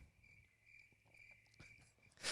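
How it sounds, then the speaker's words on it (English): A cricket chirping sound effect plays as a steady, faint high trill under low background rustle, with a louder burst at the very end and no talking. "I'll just put the cricket noise on here."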